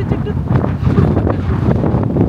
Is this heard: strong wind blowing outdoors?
yes